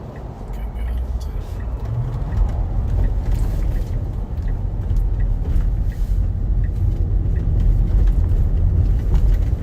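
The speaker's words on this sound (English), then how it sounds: "Of course, we would have an ass ton of traffic." Heavy road traffic rolls past during a severe Florida thunderstorm, making a steady loud rumble of cars, buses and trucks with hiss from wet tires. A voice talks faintly underneath.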